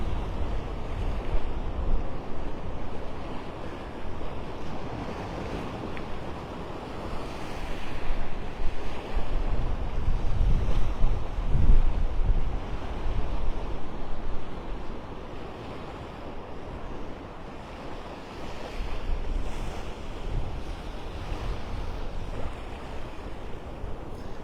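Ocean surf rolls in continuously on a morning beach at Delnor-Wiggins in North Naples, Florida, mixed with gusty wind buffeting the microphone, a steady deep rumble that swells and eases without any voices.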